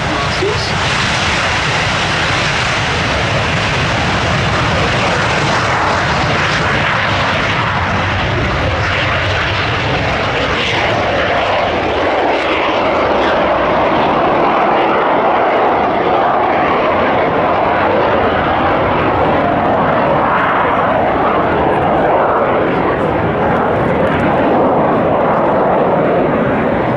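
Pair of BAC Strikemaster jets displaying at the Duxford summer airshow, a loud continuous jet roar that swells and shifts in pitch as they pass, with people talking over the engine noise.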